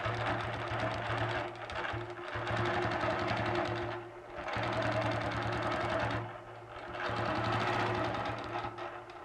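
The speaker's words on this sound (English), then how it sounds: "Now what I'm going to do is quilt half of the star initially." A sewing machine quilts half of a star pattern on fabric, its steady fast needle hum running in three long bursts with brief pauses between them.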